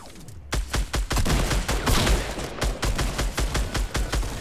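Rapid bursts of gunfire from a Fortnite duos match ring out in quick, loud volleys with short gaps between them, sounding like sustained automatic fire on a mountain battlefield.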